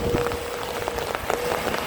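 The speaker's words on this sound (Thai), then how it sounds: "ทำไมฝนมาตอนนี้ล่ะ" Rain patters down at an old pond being dug deeper with a SANY SY200C excavator, scattered drops tapping close by over a faint steady tone.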